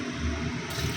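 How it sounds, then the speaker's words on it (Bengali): Water poured into a frying pan of frying lentils with ginger and cumin paste, a short close gushing splash with steady sizzle-like rush. "জল দিয়ে দিই। এবারে ভাজা হয়ে গেছে"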